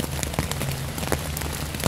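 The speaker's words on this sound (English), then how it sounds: "I'm listening to the rain." Rain patters steadily on a camping tent at a lake park, a dense continuous hiss broken by scattered sharper drops, with no voices.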